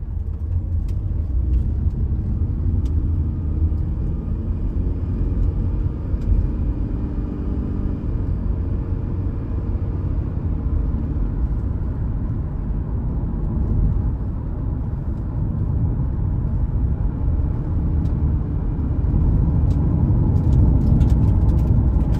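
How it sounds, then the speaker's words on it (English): Steady interior rumble of a 2012 Toyota Prius v on a test drive, a continuous low road and drivetrain drone at even loudness throughout with no talking. "now we're going to go ahead and take it on a quick test drive."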